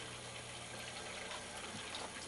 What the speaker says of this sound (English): As these pumps get going,